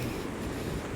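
Steady gusting wind on a cold early morning walk in Dartmouth, a broad low rushing roar buffeting the microphone throughout, loud and continuous with no voice over it.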